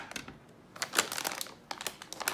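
An anti-static plastic bag wrapping a graphics card crinkles close by in quick, irregular rustles and crackles, heard on its own.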